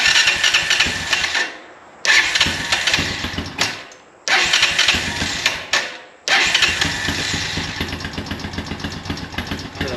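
An ATV engine, run without choke, cranks and catches several times, sputtering and cutting out before firing up and running steadily, loud and close with no talking.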